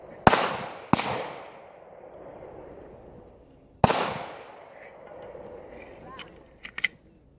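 A .45 ACP pistol firing 200-grain bullets loaded with shotshell powder, three sharp, loud reports with decaying echoes, two close together and one after a pause, followed by faint metallic clinks.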